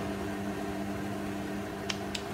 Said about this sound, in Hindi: अच्छा माइक्रोवेव में, तो भाई अपना खाना गर्म हो रहा है